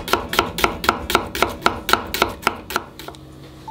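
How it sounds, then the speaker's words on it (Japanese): A knife thinly slices an onion on a cutting board, about a dozen crisp, evenly spaced chops in a quick steady rhythm, close and clear, slowing at the end. "あと玉ねぎ、これは薄くスライスをしていきます"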